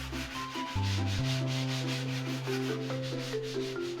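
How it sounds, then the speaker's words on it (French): Light hand sanding smooths small flatness defects on a surface before painting. Rapid, regular scratchy strokes repeat under a steady tonal hum, close and fairly quiet, with no voices. "c'est juste un ponçage pour enlever un petit peu les petits défauts de planéité."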